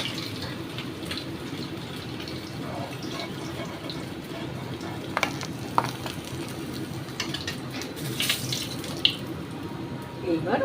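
Bata fish frying in oil in a pan gives a steady, soft sizzling hiss, with occasional light clicks and scrapes of a utensil nearby.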